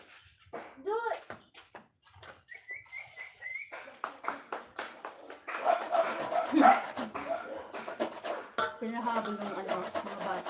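A dog barks in short repeated bursts on a farm while it is sent to chase a cow, the barks mixed with lively talk, children's voices and clattering knocks.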